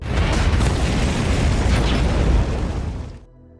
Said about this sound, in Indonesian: Lalu mobil tersebut pun meledak